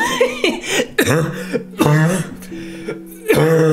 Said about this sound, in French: je fais des bruits de moto quand je tousse